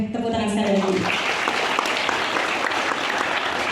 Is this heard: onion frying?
no